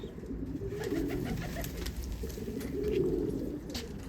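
A golden pigeon coos on a rooftop in Amritsar, with low, rolling coo phrases repeating close by against a steady background hum, and no talk.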